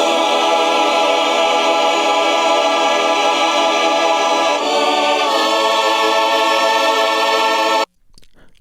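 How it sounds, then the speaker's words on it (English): A fake synthesized choir in the chorus of a song, a loud sustained wash of blended voice-like tones that shifts chord partway through and then cuts off abruptly near the end. "And then during the chorus, there's a choir, a fake choir."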